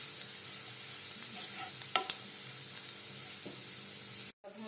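Ground dry coconut, ginger and garlic sizzle and are stirred in a pan, a soft steady frying hiss with a few clinks of a spoon against the pan and a brief dropout near the end.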